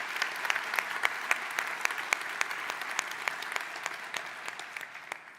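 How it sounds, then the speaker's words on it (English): A keynote audience at Atlassian Summit Europe 2017 applauds the event sponsors, a sustained crowd clapping with distinct sharp individual claps standing out, fading gradually toward the end. "Huge round of applause for all our sponsors,"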